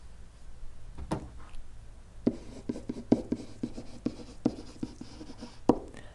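Pen or marker writing out a mathematical expression, a quiet series of short scratchy strokes and taps at an irregular pace, close and fairly soft, with no talking.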